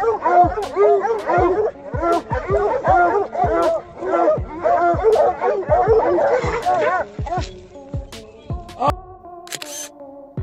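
Pet dogs bark rapidly and frantically at a cornered mountain lion in a yard, with dense overlapping yips and whimpers that thin out toward the end, where a few sharp clicks remain.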